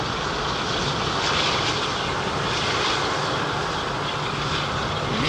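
Heavy airliners arriving at London Heathrow Airport roar continuously overhead, a loud, broadband engine rumble and rush that holds steady throughout with no voices.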